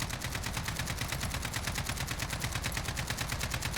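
An AK-47 firing fully automatic in the Warzone video game: a continuous rapid stream of evenly spaced shots, steady and dense throughout with no pauses.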